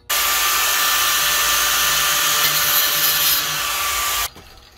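A power tool cuts through bent 3/8 steel rebar, producing a loud, steady high-pitched grinding whine that runs continuously for about four seconds close by, then stops abruptly.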